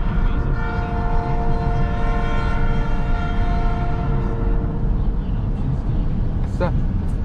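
A Silicon Valley Railroad train rolls past with a loud, steady rumble throughout, and its horn sustains in layered harmonic tones for most of the stretch before fading. A brief, sharper sound cuts in near the end.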